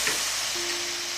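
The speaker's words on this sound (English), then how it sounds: "Next, we're going to add in our white wine" White wine hits a hot pan of chicken and cheddar sauce for bowtie pasta, giving a steady broadband sizzle that runs throughout, close and moderately loud, with a faint thin tone entering partway.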